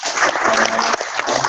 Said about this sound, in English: Give applause for him.